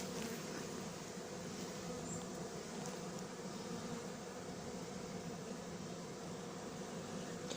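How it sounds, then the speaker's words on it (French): Honeybees buzz continuously while a swarm is being hived, a dense, steady, close drone of many wings with no pauses and no voices. "Cette abeille-là, elle appelle les autres."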